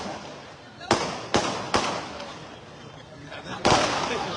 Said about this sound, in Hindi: मैं पटाखे के बारे में बोल रहा हूं।